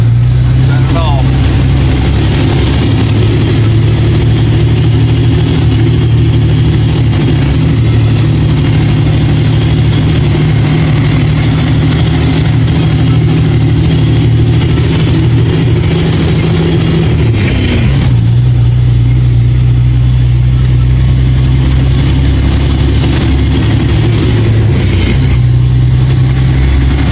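A log truck's heavy diesel engine drones steadily while driving on snowy roads, a loud continuous low rumble with a brief dip and shift in tone partway through, as someone talks over it.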